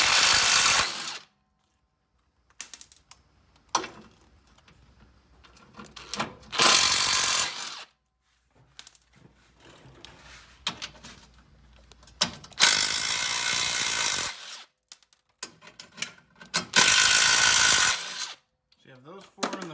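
Ratchet zapping off the 15mm Z-brace bolts on a 2005-2014 Ford Mustang, in several loud bursts of rapid clicking separated by pauses, close by and with no talk.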